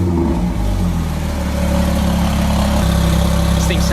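Mitsubishi Evo IX with a Boost Logic exhaust, a sequential-gearbox race car with a built engine, running loud and close with a steady, deep rumbling idle that holds throughout, no speech.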